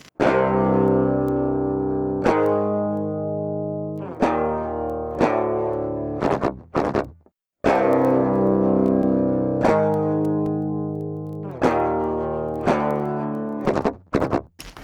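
Clean, unprocessed direct-input electric guitar plays strummed chords and short picked phrases with string muting, with brief pauses and abrupt stops between passages.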